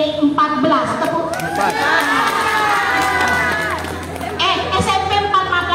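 Audience at a teachers' workshop responds on cue with a sustained burst of cheering and clapping from a crowded room, mixed with shouting voices, loud and close throughout.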